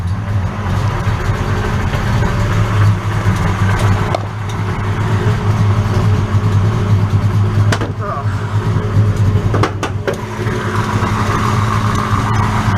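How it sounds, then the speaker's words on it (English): A 1968 Dodge Dart with a 408 engine built by IMM Engines of Indio, California, idling steadily with a deep low rumble throughout, close and loud, with a few faint clicks and no clear talk. "what we have here is a 408 engine built by IMM Engines out in Indio, California"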